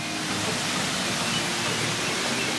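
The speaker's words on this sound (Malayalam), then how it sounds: "നമ്മൾ അത് ഇതിന്റെ ബാക്കിൽ കാണുന്നത് നമ്മളിപ്പോ കണ്ട വെള്ളച്ചാട്ടമാണ്" Waterfall near a mud house in Kanthalloor, heard as a steady, dense rush of falling water, loud and unbroken throughout with no voices.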